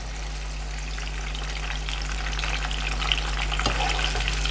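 Chicken pieces for ayam pop fry in hot oil, a steady dense sizzle and crackle that fills the space, close and fairly loud, with occasional sharper pops and no talk.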